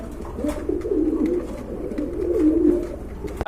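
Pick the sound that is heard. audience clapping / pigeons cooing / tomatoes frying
pigeons cooing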